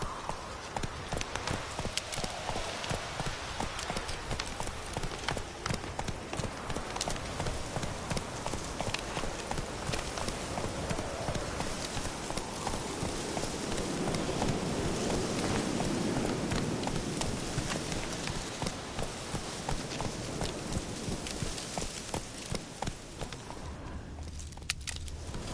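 Galloping hooves of the horse Roach in The Witcher 3, a steady fast clip-clop running continuously and fairly loud, with ambient game sound beneath and a brief fade near the end.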